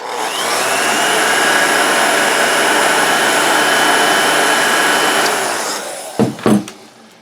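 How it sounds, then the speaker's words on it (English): A hot air gun blows steadily and loudly close by while heating a studio-scale Star Wars Y-Wing model helmet, a constant airy roar lasting about five seconds before cutting off, followed by a couple of brief handling knocks. "Hot air gun. Just real quick, just heat it up, get it soft."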